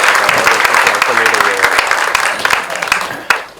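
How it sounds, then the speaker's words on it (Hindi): Loud, dense applause from a crowd at a film trailer launch, greeting the film's writer, steady throughout with voices talking over it. "जोरदार तालियां बजती हैं।"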